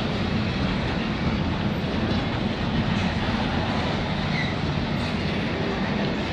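A CN container freight train rumbles past Bayview Junction at night in a steady, loud roar of rolling wheels and rattling cars, continuous throughout with no voices.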